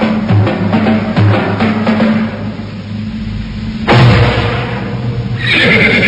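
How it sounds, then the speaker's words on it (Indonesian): A horse neighs loudly in a radio drama scene as a rider arrives at a house courtyard, with a long whinny followed by shorter snorts and a second whinny near the end, with no talking. "seorang penunggang kuda memasuki halaman rumah Nyai Tumpak Seti"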